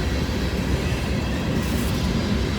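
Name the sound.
train passing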